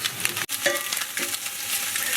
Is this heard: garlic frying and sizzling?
yes